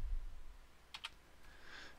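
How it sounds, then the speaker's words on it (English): A single key press on a computer keyboard, the print screen key, gives a quick pair of close, crisp clicks, followed by a fainter soft tap in a quiet room. "So I've hit my print screen."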